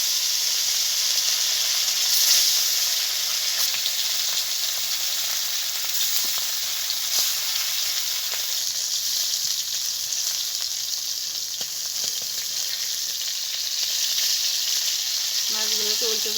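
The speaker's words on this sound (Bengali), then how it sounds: "মাছটা ভেজে নেব।" Fish rubbed with salt and turmeric sizzles steadily in hot oil, a dense continuous frying hiss that holds at an even level, with a brief voice near the end.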